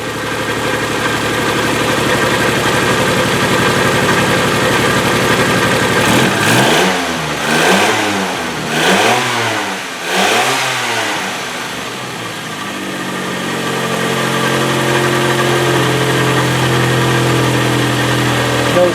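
A rebuilt used car engine running steadily at idle, then revved several times in quick swells before settling back to a smooth idle, loud and close.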